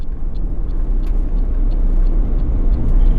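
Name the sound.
road grader approaching on outback track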